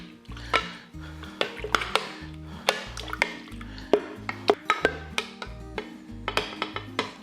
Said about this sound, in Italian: Bene, comincio a mescolare.